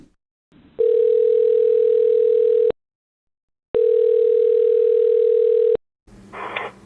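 An outgoing call on a phone gives two long, steady ringback tones, each about two seconds with a one-second pause between, loud and clean, followed by a brief rustle as the line connects.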